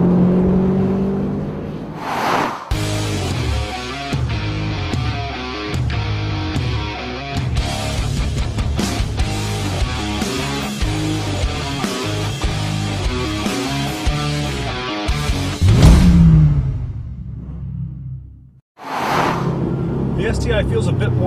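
A Subaru WRX STI drives and accelerates, its engine note rising and falling through gear changes with a steady loud drone, broken by short gaps and a brief surge near the end, with talk over parts of it.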